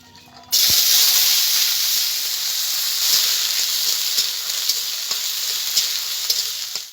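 Carrots, beans and capsicum fry together in white oil in a wok, a loud, steady sizzle that bursts in after a brief quiet start and carries on with faint stirring ticks.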